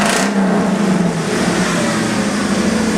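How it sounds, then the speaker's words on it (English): Race car engine at MSR Houston for a 24 Hours of Lemons endurance race, running with a shortened exhaust, a loud close rumble with a steady low drone. "That's what she sounds like now with the exhaust shock a bit short."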